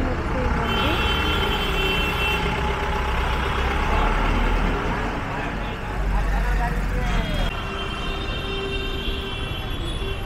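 Steady traffic rolls past on a main road beside a roadside temple in Bagnan near Kolkata, a continuous loud engine rumble with passing trucks and vehicles, and voices heard over it.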